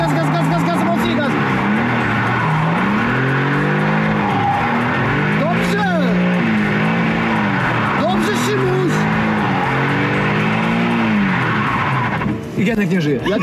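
A car engine revs hard and wavers up and down while tires squeal through a drift, loud and close, with people's voices mixed in.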